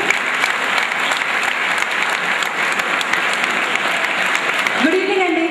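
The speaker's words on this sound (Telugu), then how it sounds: "Come on clap everyone." An audience at a school stage event claps loudly and continuously, a dense, steady applause that fills the room.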